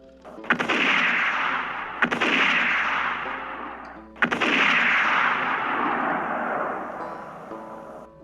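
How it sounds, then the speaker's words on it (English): Three heavy rifle shots in a frontier setting, like Winchesters firing, each a sharp near blast with a long rolling echo, spaced about two seconds apart, no voices. "a half dozen cowboys were near enough at one time to fire several shots at him from their Winchesters"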